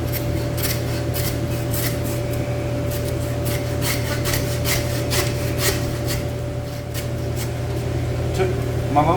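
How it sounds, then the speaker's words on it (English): A small hand saw cuts through a hog's backbone about an inch thick during home butchering, giving a steady rasping drag of strokes that runs continuously over a constant low hum. "Took my little saw and I cut through the backbone about 1 inch thick"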